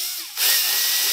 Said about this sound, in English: I'm going to drill our hole through the material, step it all the way so we just see that black line.